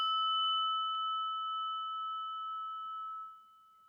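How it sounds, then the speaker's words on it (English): A meditation bell rings once with a clear struck tone, its pure ringing sustaining steadily for several seconds before fading into near silence. "I'm going to ring the bell again"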